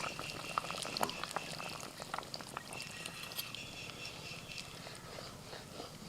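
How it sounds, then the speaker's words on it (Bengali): Village-style chicken stew with fried spices and rice-flour paste bubbling in a pot, a steady soft simmering hiss with scattered small pops, faint and continuous throughout. "এবার 1 মিনিট ফুটিয়ে নিয়ে নামিয়ে নেব"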